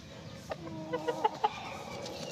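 A backyard rooster clucks in a short run of quick, close calls, four or five soft notes bunched within about a second over faint background noise.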